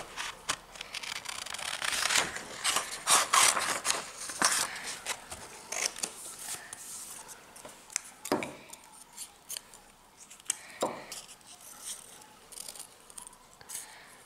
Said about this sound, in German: schneidet Augen aus